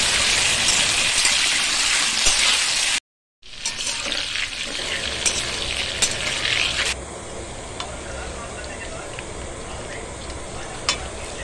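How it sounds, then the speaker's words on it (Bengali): Potato and pointed gourd pieces fry in hot oil with salt, a loud dense sizzle that stops briefly, then resumes and later settles to a quieter steady crackle, no voices present. "সামান্য পরিমাণে নুন দিয়ে আলু ও পটলগুলো হালকা ব্রাউন করে ভেজে তুলে রাখব।"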